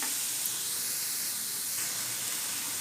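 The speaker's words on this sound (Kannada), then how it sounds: "ಈಗ 1-2 ನಿಮಿಷ ಇದನ್ನ ಚೆನ್ನಾಗಿ ಹಸಿ ವಾಸನೆ ಹೋಗೋಂತ ಫ್ರೈ ಮಾಡ್ಕೊಳ್ಳೋಣ" Masala paste fries in a hot pan, giving a loud, unbroken hiss and sizzle at even strength from start to finish, close by and with no voices.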